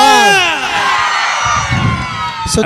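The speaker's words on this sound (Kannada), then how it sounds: "ಸರಿ ಜೋರ ಚಪ್ಪಾಳೆ ಬರ್ಲಿ ಅಣ್ಣ" A lively crowd cheers and whoops at a stage music show, with shouts and yells and some children's voices under a loud sweeping tone, brief and close.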